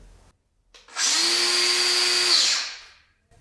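A Bosch GWX 10SC X-lock angle grinder spins up to a loud, steady high-pitched whine with a rising tonal hum, then brakes quickly and winds down to silence within about a second; the sound is close and isolated, with no talking.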